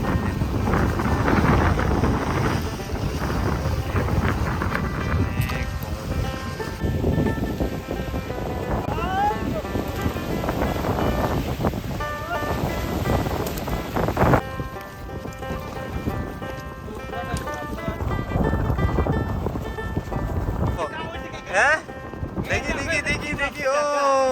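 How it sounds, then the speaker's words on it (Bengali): Strong wind roars and buffets the microphone over churning waves on the Padma River during fishing, with loud rushing gusts throughout and faint voices mixed in. "পদ্মাতে এখন প্রচণ্ড বাতাস এবং ঢেউ"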